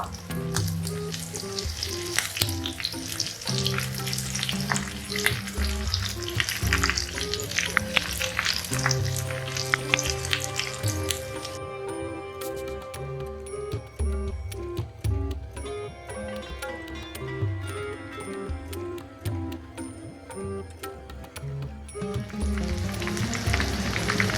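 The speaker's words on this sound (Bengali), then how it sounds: "তো আমি এখন এগুলোকে গোল্ডেন কালার করে ভেজে তুলবো।" Chicken drumsticks deep-frying in hot oil until golden, a steady dense sizzle running throughout with musical tones layered over it and occasional stirring clicks.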